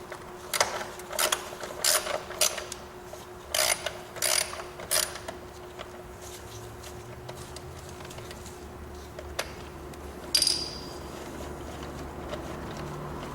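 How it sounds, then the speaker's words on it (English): A 1/2-inch socket ratchet with an extension loosening the battery hold-down on a 1988 C4 Corvette: several quick runs of close, rapid clicking separated by pauses, then a couple of short bursts near the end, with no talk. "Now just take your 1/2-inch socket with your extension. You can loosen that battery right out."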